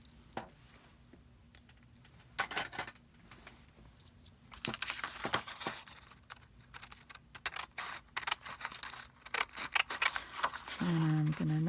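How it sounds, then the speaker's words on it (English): Scissors snip through paper to cut out a printed quote for a journal card, a run of quick, close crisp cuts with short gaps, ending with a louder rustle. "So I'm just going to cut my quote out."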